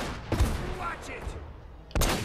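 Gunfire cracks out in the Uncharted: Drake's Fortune video game, a couple of sharp close shots separated by a short gap, with game sounds in between.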